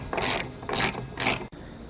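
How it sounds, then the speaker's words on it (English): A wrench turning a bolt on the side of an RV water filter canister, three quick ratcheting bursts of clicking, close and crisp, then a sharp stop. "Then get your wrench and just loosen that bolt on the side."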